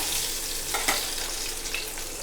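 Mustard seeds and urad dal crackle and sizzle in hot oil in a kadai, a steady hiss with scattered small pops and a brief stir, close and moderately loud, no voices.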